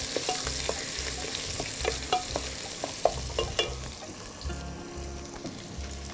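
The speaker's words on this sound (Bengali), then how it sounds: "আমরা এই মিশ্রণটাকে বাদামি করে ভাজব।" An onion and garlic mixture fries in a pan over a gas flame, browning with a steady close sizzle and repeated scraping strokes of a spatula stirring at an uneven rhythm.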